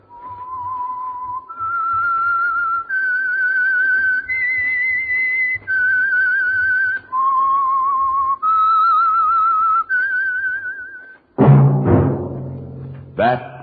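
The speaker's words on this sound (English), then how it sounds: "That whistle is your signal for the Signal Oil Program, The Whistler." A whistled theme tune for the radio show The Whistler, a slow eerie melody of sustained clear notes stepping up and down, followed by a short burst of orchestral music.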